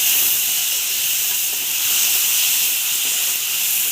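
Loud, steady frying hiss as pumpkin leaf tips are added to jackfruit seeds browning in hot oil, a continuous bright sizzle with no talking.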